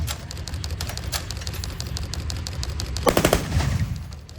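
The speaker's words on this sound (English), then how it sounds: "He's going to give us a couple of rounds out the barrel." .50 caliber machine gun firing from a military vehicle at a tank museum event, a rapid rattling string of loud shots near the end after a lower rumbling run of reports, heard close and outdoors.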